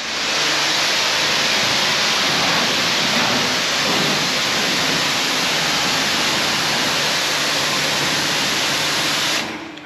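High-pressure washer with a flat jet nozzle spraying down a dry farrowing pig stall, a loud, dense, continuous hissing roar of water close by that cuts off abruptly at the end.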